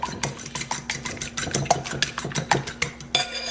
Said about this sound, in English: And kind of beat the egg a little.